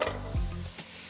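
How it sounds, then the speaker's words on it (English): Lean ground beef sizzles loudly in a hot pan for goulash, a steady close frying hiss with a brief low clatter of stirring partway through, and no voices. "Listen to the sizzle."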